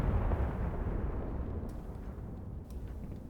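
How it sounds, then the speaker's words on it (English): Mortar barrage explosions in Graviteam Tactics Mius Front: a dense, continuous low rumble of overlapping blasts, loud at first and easing slightly, with no voices. "Let's hope that this is not actually my mortar barrage here."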